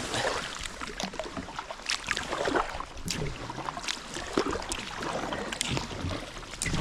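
Kayak paddles dipping and pulling through open sea water on the Bay of Fundy, with steady splashing and swishing strokes close by over a constant wash of wind and water.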